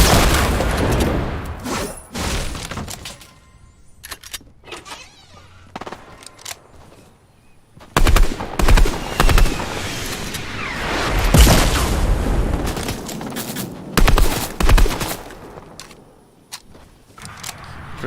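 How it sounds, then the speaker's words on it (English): Fortnite gunfire and booms in a competitive match, with clusters of loud shots and impacts broken by quieter gaps and a voice talking over parts of it. "we got someone shooting from a bush"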